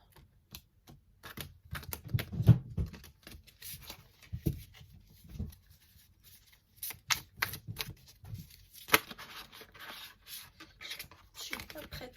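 Stiff, rigid tarot cards shuffled by hand, making short papery riffles and slaps in irregular bursts, with quiet gaps between them and a soft voice now and then.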